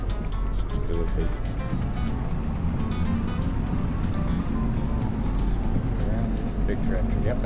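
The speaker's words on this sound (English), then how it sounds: "Big tractor." A big farm tractor engine rumbles nearby with a deep, steady drone, and people talk over it throughout.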